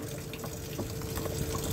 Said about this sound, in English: you'll notice that water is now flowing out of the bottom